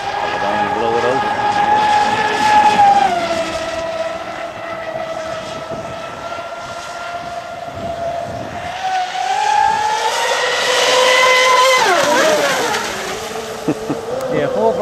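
Twin electric motors of an Expresscraft Thunderbolt RC boat whine at full throttle, a loud rising and falling electric buzz that swells as the boat passes nearer and fades as it moves away, with a second surge near the end.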